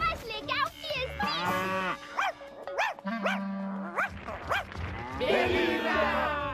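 A cartoon cow moos in several long, drawn-out, wavering calls that rise and fall, close and loud, with a brief steady low tone partway through.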